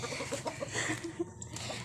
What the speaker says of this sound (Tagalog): may mga manok pa yan. Daming manok oh.